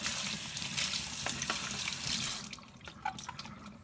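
Tap water runs steadily into a sink as a Keurig K-Elite coffee maker part is rinsed, then the flow stops, leaving a few scattered drips and light clatter.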